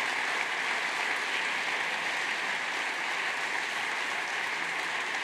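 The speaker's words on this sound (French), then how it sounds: "Je voudrais également vous demander d'applaudir chaleureusement Frédéric Aguilera" Sustained audience applause filling a hall at the 18th Régions de France congress in Vichy, a steady dense wash of clapping at moderate level with no break for its full length.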